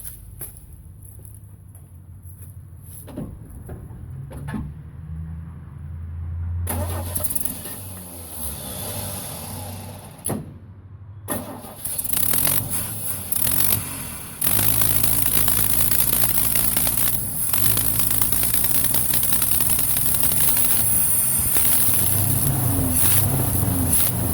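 A Chevrolet C10 truck engine with a vacuum leak and freshly replaced exhaust gasket cranks, stumbles through uneven starts, then settles into a loud, steady idle that runs continuously through the second half.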